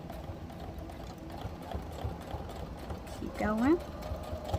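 A sewing machine top stitching a holiday bookmark runs as a low, steady mechanical whir beneath a voice, faint and close throughout.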